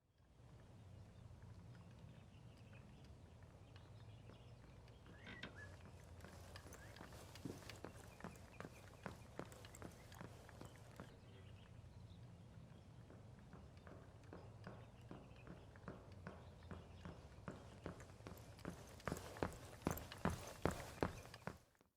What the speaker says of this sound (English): Here's a video provided by Ubisoft detailing the difference in footstep volume.